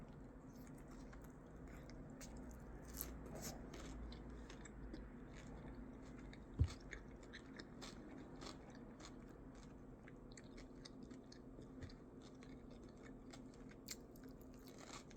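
Someone bites and chews a bratwurst topped with mustard, melted cheese and Cholula hot sauce alongside a Grillo's pickle, with soft close crunches and mouth sounds, one sharper bite standing out, quiet and steady.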